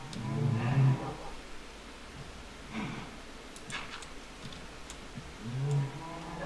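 Cows in the game Minecraft moo in long, low, drawn-out calls, one at the start and another near the end, with softer snorting and shuffling noises between them and no speech.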